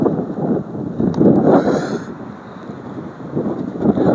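Loud, rumbling wind buffets the microphone in uneven gusts while a drone is flown near Ooty, swelling and easing throughout.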